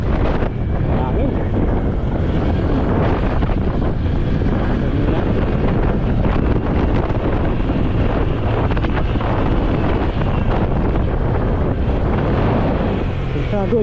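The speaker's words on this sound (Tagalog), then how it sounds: "Hangin." Steady, loud wind rushes and buffets a microphone throughout an outdoor ride through Barangay Kisaw, Pililla, Rizal, a continuous broadband roar with no clear breaks.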